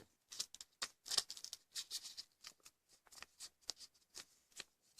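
Paper being folded and creased for an origami Batman, a close series of quick crisp rustles and crinkles in uneven bursts against near silence.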